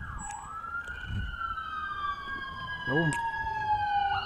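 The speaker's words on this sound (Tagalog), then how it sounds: "bumasina na naman ang ambulansya." An ambulance siren wails steadily in the distance, its pitch sliding up and down, with a brief spoken word and light background noise.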